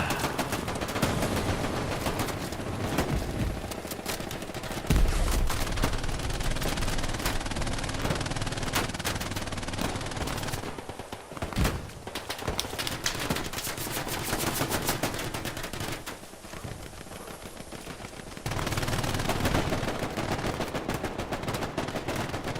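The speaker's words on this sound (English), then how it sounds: "Now that's a unique sound for the MG42 inside here." MG42 machine gun fire in the game Hell Let Loose, long continuous bursts with rapid rattling shots and other gunfire mixed in, loud throughout with brief lulls.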